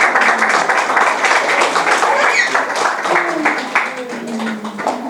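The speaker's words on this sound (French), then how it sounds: "Bravo, petit applaudissement." Applause at a deliverance seminar evening in Avignon, celebrating a couple's wedding anniversary: dense, steady clapping from the audience fills the whole stretch, with voices speaking over it.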